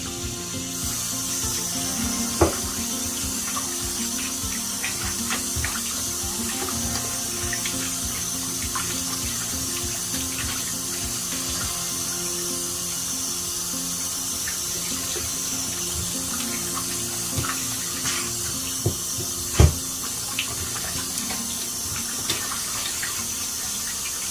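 Steady stream of water running continuously into a bowl with lemons, with a few faint knocks and clinks of dishes along the way.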